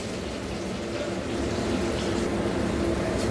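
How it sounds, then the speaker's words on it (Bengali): Okra frying in a pan with browned onions makes a dense, continuous sizzle that stays fairly loud and even, swelling slightly toward the end. "ঢেঁড়সটা একটু ভাজা ভাজা হোক।"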